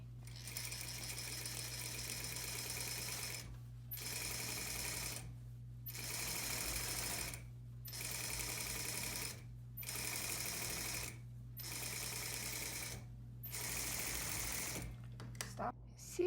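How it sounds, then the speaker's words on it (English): A sewing machine runs in steady bursts stitching a tailored collar lapel, its fast even whir broken by short pauses between seams, with a constant low hum underneath and no talking. "Now, I will sew this"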